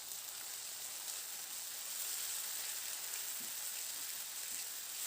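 Masala with ginger-garlic paste and finely chopped tomato sizzles in a pan for a Bengali fish curry, a steady soft frying hiss with faint stirring scrapes.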